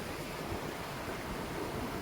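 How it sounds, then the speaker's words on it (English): Cold water flowing steadily from its source at a campsite stream, a continuous broadband rush that stays loud and even throughout with no pauses. "Look at that, the water comes from there."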